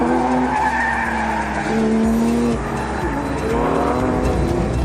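A race car slides around a track corner, tires squealing loudly with a sustained, wavering screech over a roaring engine, close and continuous throughout.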